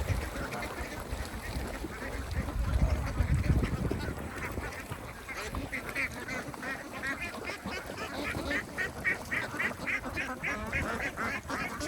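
A flock of ducks on a duck farm quacks continuously, a dense overlapping chorus at moderate distance with steady outdoor noise behind it.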